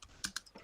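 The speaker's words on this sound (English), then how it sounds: "we can hear him typing" Quick keystrokes tap on a computer keyboard on an open online call, a handful of light clicks in a brief, uneven burst, close but soft.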